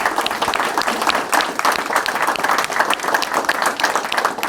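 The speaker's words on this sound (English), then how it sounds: "let's give them a round of applause, please." Steady audience applause at a school district board meeting, many hands clapping densely and continuously at a loud, even level throughout, with no voices standing out.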